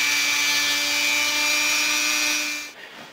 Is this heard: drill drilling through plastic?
yes